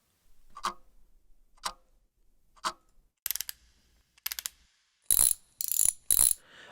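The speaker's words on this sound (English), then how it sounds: "finally we have ticks" Horror-style mechanical tick effects play in isolation: three evenly spaced sharp single clicks, then two rattling ratchet bursts, ending with three louder, brighter metallic clacks in quick succession.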